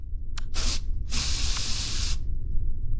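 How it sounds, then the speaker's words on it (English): An Axe deodorant body spray is sprayed inside the video game Metro Sim Hustle: a quick short hiss, then two close, loud aerosol bursts, the last held for about a second. "the man has put on Axe body spray"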